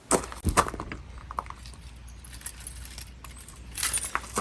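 A heavily loaded key ring jangles in bursts of metallic clinking, louder at the start and again near the end, with quieter rattling between.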